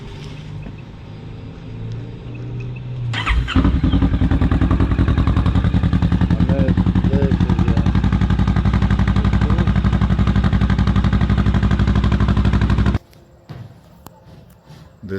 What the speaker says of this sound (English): I just picked up my Kawasaki Vulcan SE and I'm about to start her up and warm up the engine and hear